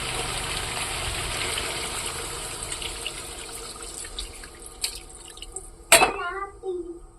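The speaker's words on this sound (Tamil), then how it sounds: "இப்போ நம்ம தேவையான அளவு வந்து தண்ணி ஊற்றிக்கலாம்." Water is poured in a steady stream into a hot pan of frying chicken curry, then a sharp splash and sizzle as it hits, with a faint voice in the background.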